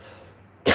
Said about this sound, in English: She's getting better with her cough.